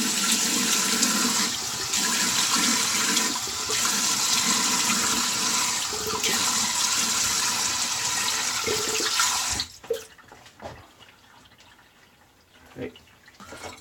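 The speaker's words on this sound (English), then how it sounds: "I'm just going to wash up." Water runs steadily into a sink while someone washes up after a shave, a loud continuous rush for about nine and a half seconds that stops abruptly, followed by a few faint drips and small handling sounds.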